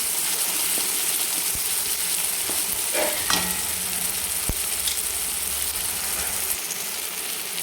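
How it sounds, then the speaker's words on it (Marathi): Onion, tomato and spices sizzling and frying in a pan for mixed dal with drumsticks, a steady loud sizzle with a few stirring scrapes and clinks nearby. "आणि फक्त एक मिनिटभर आपल्याला याला परतून घ्यायचं छान सगळे मसाले आणि कांदा टोमॅटो छान मिक्स झालं पाहिजे"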